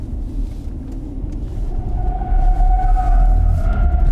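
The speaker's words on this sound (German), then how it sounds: "Jetzt schauen wir doch mal, ob wir hier in dem Turn das Auto auch quergestellt kriegen." Audi e-tron S electric car drifting through a turn on a test drive, a low rumble swelling louder with a rising whine from the drivetrain, close and continuous.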